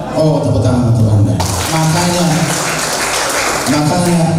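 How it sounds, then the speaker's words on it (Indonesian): Seminar audience applauding a multi-level marketing speaker, a broadband clapping wash that swells after the first second and carries on under the presenter's continuing voice. "tepuk tangan untuk Anda"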